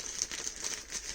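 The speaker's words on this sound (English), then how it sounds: "Open it up. Looks like it comes in a plastic bag" A plastic bag holding a drone propeller stabilizer for a DJI Mavic Air 2 being opened up close, soft steady crinkling with light rhythmic rustles.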